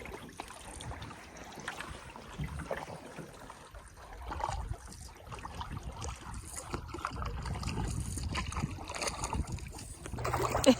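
Canoe paddled across open water on a bright day, with soft splashing and water trickle over steady wind noise, the strokes blending into a continuous low wash that grows slightly louder toward the end.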